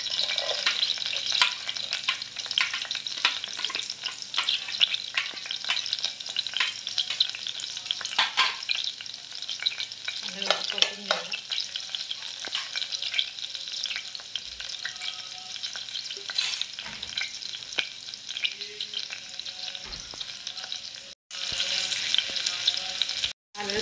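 Sliced onion frying in hot oil for a Konkani-style fish curry, a steady, loud sizzle with occasional stirring scrapes throughout, no voices.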